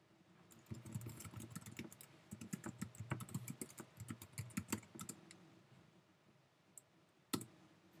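Fingers type a password on a computer keyboard in quick, irregular bursts of light clicks, followed by a pause and a single sharper keystroke near the end, heard faint and close with no speech.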